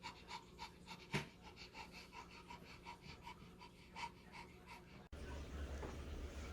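A puppy pants in quick, even rhythmic breaths close by, a steady series of soft huffs with one louder snort-like burst, before the sound cuts to a different, noisier background.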